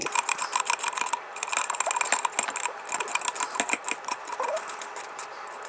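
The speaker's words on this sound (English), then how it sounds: "I'm just going to scrape any of this surface powder coat" Surface powder coat being scraped off a Harley-Davidson Road Glide part, heard as rapid, repeated scratchy scraping strokes with a dense, uneven rhythm, close and fairly loud, with no talking.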